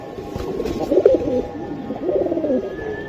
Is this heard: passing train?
no